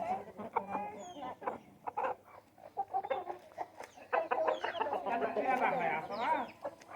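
Five-month-old hens and roosters kept together cluck and squawk close by in busy, irregular bursts, with a voice speaking among them.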